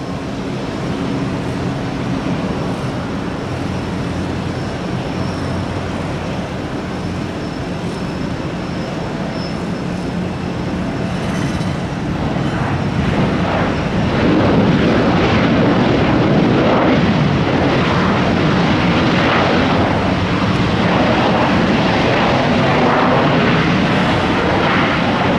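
A United Airlines airliner passes overhead near Tampa airport, a broad loud roar that swells from about twelve seconds and stays strong to the end, blended with steady background noise.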